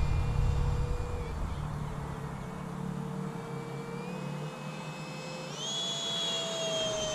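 Freewing Stinger 64 RC jet plane at full throttle, a steady electric ducted-fan whine that rises in pitch partway through, with a rumble of wind or handling noise early on.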